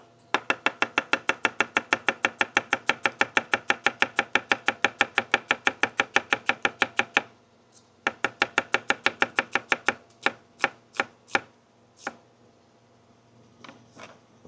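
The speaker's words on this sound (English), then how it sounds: "We got a red onion. Trim off the ends." A knife cuts through a red onion on a cutting board in a fast, even run of crisp chops, pauses briefly, then resumes before tapering to a few scattered strikes. The chopping is close and clear with no talking.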